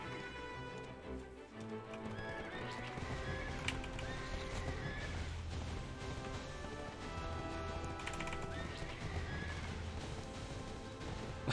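A horse in the online game Black Desert Online, a PvP mount, gives several loud whinnies over steady clip-clopping hooves, with game effects layered throughout.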